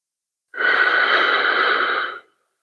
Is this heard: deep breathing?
yes